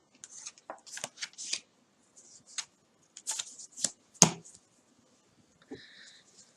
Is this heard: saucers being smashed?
no